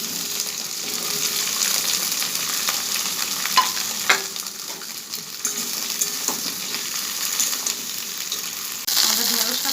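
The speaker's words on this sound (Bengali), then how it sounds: "আমাদের ঢেঁড়সটা ভাজা হয়ে গেছে।" Okra and potatoes with garlic frying in a pan, a steady close sizzle with occasional stirring clinks and scrapes, running continuously without voices.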